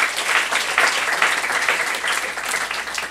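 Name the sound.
congregation applause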